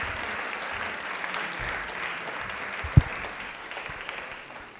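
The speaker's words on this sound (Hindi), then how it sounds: "तालियां प्लीज़ एक बार सुरेश सर के लिए जोरदार होनी चाहिए।" Studio audience at a Doordarshan Jaipur general knowledge quiz applauding a guest called to the stage, an even, moderate patter of clapping with a single sharp knock partway through.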